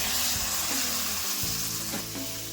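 Steady, close sizzling of boiled food frying in a hot oil tempering for a breakfast dish, continuous for the whole stretch with a few soft stirring scrapes and no voices.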